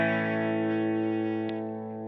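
Electric guitar played through a Blackstone distortion pedal with the guitar's volume knob rolled back, a single sustained chord ringing with full lows and a slightly compressed, bright top end, decaying slowly after a brief pick click.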